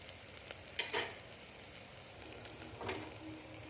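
Onion and chili tempering in hot oil in a pan for a mixed-greens keerai kadaiyal, a soft continuous sizzle with a couple of brief stirring clatters, fairly quiet throughout.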